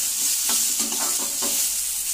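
Ginger garlic paste sizzles steadily in a hot pan while a spoon scrapes and stirs it in a few quick strokes, close and moderately loud with no talking.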